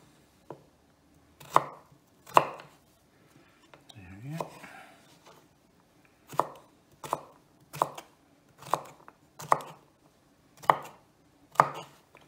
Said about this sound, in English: Chop, chop. Very good. Lovely. Chop, chop.